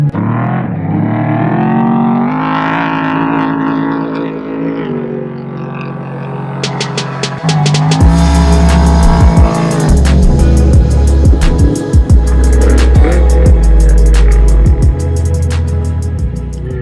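The race-leading truck in the 2021 Mint 400 off-road race roars across a dry lake bed, its engine note sweeping and dropping as it passes close by, followed by a loud, rough rumble.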